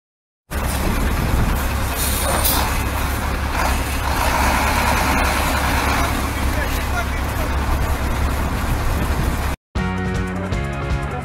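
A powerful engine of around 700 horsepower runs loud and steady at close range, a continuous heavy rumble that cuts out briefly before resuming.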